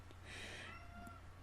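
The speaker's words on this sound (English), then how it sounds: "you can hear my cats meowing" A cat meows once, a drawn-out mewing cry that is faint and somewhat distant, with a low steady hum underneath.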